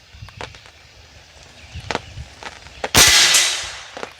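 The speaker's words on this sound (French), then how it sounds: "Je vais retirer une balle juste pour être certain." FX air rifle shooting a pellet: one sharp, loud crack near the end after a few softer clicks and handling knocks, then a brief hissing decay.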